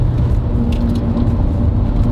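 A four-cylinder Mercedes 190 Evo 2 engine drones steadily at close range while driving, a loud low rumble with a constant hum and no speech over it.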